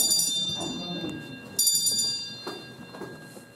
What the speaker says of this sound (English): And I thought, I brought a bell.